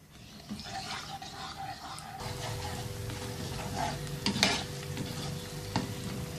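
Finely chopped onion frying in ghee in a pan, a steady soft sizzle with scattered stirring clinks and scrapes of a spoon, close and moderately quiet with no talk.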